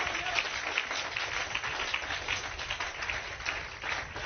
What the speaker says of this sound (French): Donnez une main d'acclamation au Seigneur.